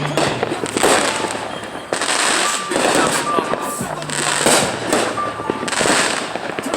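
A small backyard firework show, with loud crackling bursts and popping firecracker volleys in repeated waves, close and dense, with a brief whistle and people talking at points.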